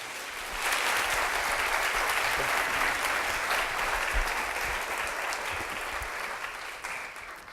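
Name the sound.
audience applause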